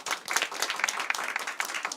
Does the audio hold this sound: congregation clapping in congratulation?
yes